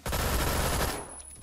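Rapid Tec-9 fire from the Roblox game Phantom Forces rips out as one dense, fast burst, loud and close, before trailing off.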